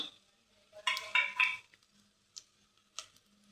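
Homemade spice paste of garlic, chili and coriander goes into a cooking pot and is stirred. A few close scrapes and clanks of a utensil against the pot come in quick succession, followed by a couple of faint isolated clinks, with no talk.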